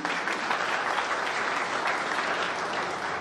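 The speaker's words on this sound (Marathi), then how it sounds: "एकदा टाळी बजाव" Audience applause at a Banjara employees' family gathering and award ceremony, steady dense clapping from a crowd that holds at an even level throughout.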